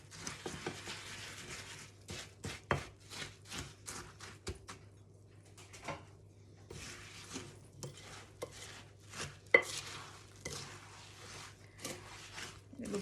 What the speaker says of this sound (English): And then you mix it in.